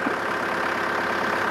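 A tractor engine idles in a steady, continuous low rumble throughout, close by and fairly loud, with no voices over it.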